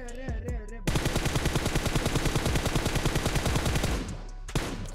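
Enemy automatic gunfire in PUBG Mobile: a rapid, evenly spaced stream of loud shots running for about three seconds after a brief lead-in, then a single later crack.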